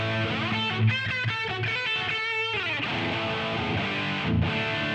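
Distorted electric guitar run through a Quad Cortex modelling a Marshall 2203 amp with a Myth drive pedal in front, gain at 3 and treble at 6, playing a busy run of notes and sustained chords, loud and alone.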